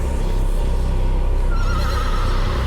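Horse neighing in the video game The Séance of Blake Manor, a single drawn-out whinny rising over a dense rumbling background, fairly loud.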